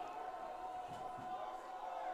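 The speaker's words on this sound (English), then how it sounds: "Crowd making some noise" Crowd at a high school football game in the third quarter making a steady, distant roar that holds evenly throughout with no clear peaks, like a broad wash of stadium noise.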